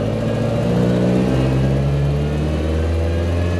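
Engine of a 1965 Land Rover Series IIA during a failed double-clutch shift: a steady, loud mid-pitched drone with a slight drop in revs partway through, no talk.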